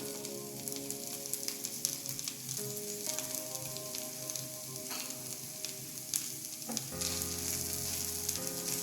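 Potatoes and boneless chicken sizzle steadily in a hot pan, a dense continuous frying hiss with occasional stirring scrapes and a brief louder burst near the end, no talking.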